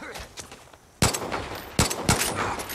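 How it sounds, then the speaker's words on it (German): Several sharp gunshots in the video game Far Cry 5 crack out, one alone and then a quick pair, loud and close, over a low background with faint voices. "Jetzt ein Schuss in den Kopf"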